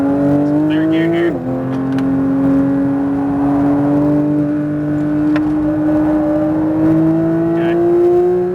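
Porsche 992 GT3 engine pulls hard in third gear on a track at Speed Vegas, a loud rising howl with a brief dip near the start before climbing steadily, with faint intermittent chatter in the background.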